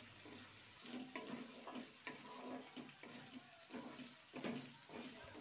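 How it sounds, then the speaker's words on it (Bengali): Red capsicum and red and green chilies fry for chow mein, a faint, fairly distant sizzle broken by repeated rhythmic scraping strokes of a spatula stirring the pan. "আর কিছুক্ষণ এটা ভেজে নেব।"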